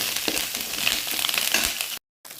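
Washed curry leaves sauté in hot oil in a pan, giving a dense, bright crackling sizzle with small pops, close and continuous, that cuts out briefly near the end.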